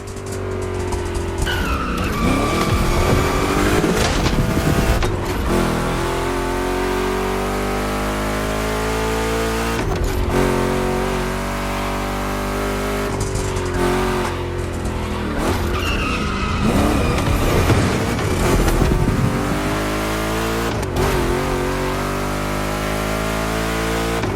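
Two Chevrolet big-block cars race in a gymkhana event in The Crew Motorfest, with loud, continuous engine roar rising and falling through the gears and long tire squeals and skids through the turns.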